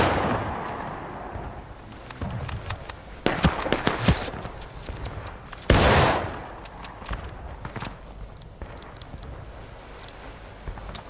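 Civil War reenactors of the 42nd Pennsylvania Volunteer Infantry fire rifle volleys outdoors, with several loud ragged blasts of musketry and a few scattered single shots. Each crack is sharp and close, followed by echoing decay.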